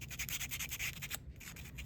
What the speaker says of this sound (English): I'm just gonna sand the edges.